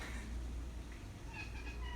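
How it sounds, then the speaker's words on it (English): A house cat meows faintly indoors during a neurological eye exam, with a low steady hum underneath and a few short tonal cries near the end. "It's my seeing eye cat."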